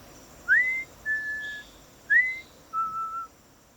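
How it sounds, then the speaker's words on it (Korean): Four clear whistled notes ring out in two rising-then-held pairs, each note short and bright, spaced evenly over quiet background as a story sound effect. "갑자기 휘파람 소리가 났어요."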